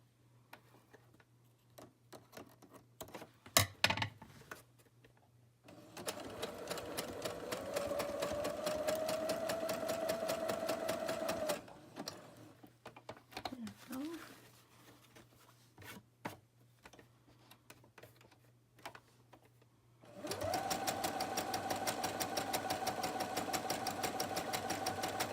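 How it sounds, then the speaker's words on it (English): Sewing machine stitching sari silk patchwork, with two long runs of fast, even stitching and a short burst in between, close and clear amid quiet handling sounds. "There's some thread that's gonna get caught in my sewing."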